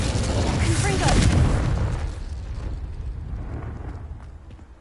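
A Confringo blast spell in Hogwarts Legacy goes off as a loud booming burst that swells and then rolls away into a fading rumble over several seconds.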